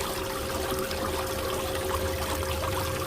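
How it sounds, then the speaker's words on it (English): Water runs steadily through a gold recovery bucket at a moderate flow rate, producing a continuous close-up pouring and trickling wash with a low rumble beneath it, with no talk. "You want to let your flow down a bit if it's going too fast, but this is not a bad flow."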